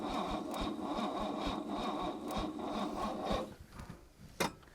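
An abandoned Mercedes-Benz engine cranks over with a rhythmic, labored starter churn for about three seconds, then stops, followed by a few faint clunks and one sharp knock.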